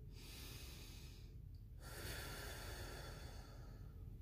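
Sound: deep breath taken in unison

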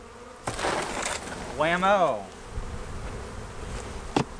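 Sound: swarm of bees being boxed

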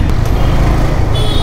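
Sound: Dhaka street traffic jam

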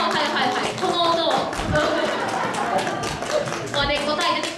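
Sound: audience clapping

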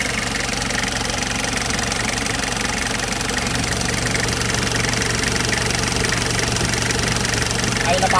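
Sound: engine of Toyota LH112 van with 2L engine running

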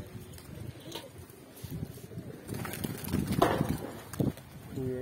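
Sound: pigeons flying

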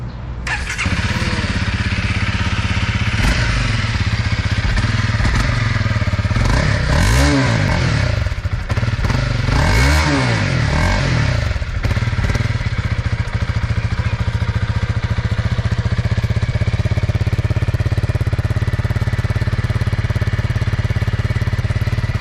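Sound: motorcycle engine running

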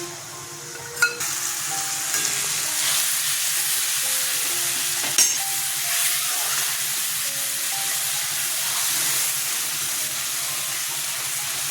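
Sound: dried chilli, cumin and coriander paste frying in pan

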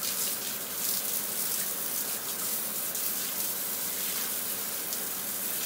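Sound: water from a hose rinsing down a sewer pipe

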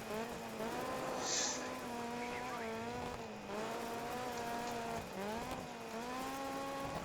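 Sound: rally car sliding tail out in DiRT 3 video game

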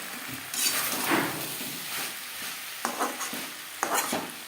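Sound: potato and pointed gourd frying with spices in pan

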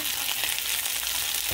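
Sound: shrimp added to hot pan with browned onion and garlic, sizzling

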